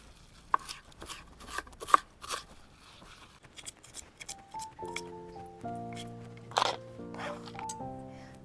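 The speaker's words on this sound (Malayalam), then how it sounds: "ഇലയൊന്ന് കൂട്ടിപ്പിടിച്ചിട്ട് ഒന്ന് പലതായിട്ടും ഒന്ന് വരഞ്ഞിട്ടരിഞ്ഞ് കഴിഞ്ഞാൽ ഇത് ചെറുതായിട്ട് തന്നെ കിട്ടും" Leaves bunched together and sliced with a knife in short, sharp cutting strokes, several quick cuts clustered in the first few seconds, fairly close and moderately quiet, followed by a steady tone sounding underneath.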